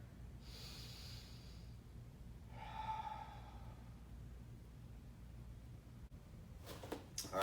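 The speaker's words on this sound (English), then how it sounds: "And with a deep breath." Slow, deep breaths during a yoga sun salutation: a long airy inhale, then a second audible exhale a moment later, soft and close, followed by faint rustling of movement.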